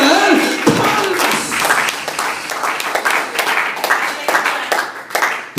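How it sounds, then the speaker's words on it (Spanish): A church congregation claps along in a steady rhythm, loud and close, with voices mixed in under the beating hands. "Démosle a Él palmas."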